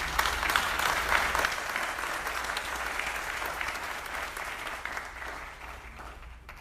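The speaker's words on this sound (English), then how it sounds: "Give them a round of applause." Steady applause from the audience at a political forum for city council candidates, a dense continuous patter of clapping that holds for several seconds and slowly fades toward the end.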